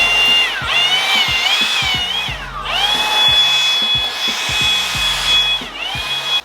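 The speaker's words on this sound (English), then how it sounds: "Leaf blower." A leaf blower clears debris from a garage floor, its close, loud whining roar rising and dipping in pitch several times as it sweeps back and forth, with no voices.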